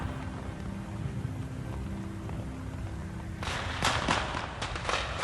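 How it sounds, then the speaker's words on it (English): Crackling bursts of video game fireworks erupt after a steady ambient hum, several sharp pops clustered over the last two seconds, fairly close and moderately loud. "Oh, look at the lovely fireworks."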